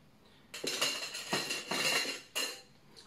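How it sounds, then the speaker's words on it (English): Ice cubes scooped and dropped into a glass for an Air Mail cocktail, giving three or four bright, clattering bursts of clinking ice, close and fairly loud, with short pauses between scoops and no talking. "You can, you don't need to add ice, but I will add a few scoops."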